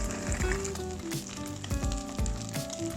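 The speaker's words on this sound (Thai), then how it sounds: "เดี๋ยวรอให้ไข่เรา สุกเหลืองนะครับ" Egg sizzling as it fries golden in a pan, cooked for a Thai clear egg soup; a steady, close crackle continues throughout beneath background music, with no talking.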